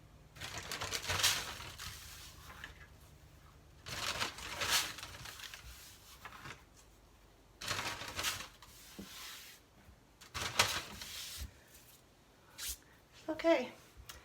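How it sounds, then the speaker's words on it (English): Compost scraps handled and dropped into a paper bag, giving several separate bursts of crinkly paper rustling and scraping, fairly close and soft, with short quiet gaps between them. "And then I take those and I put them in a paper bag."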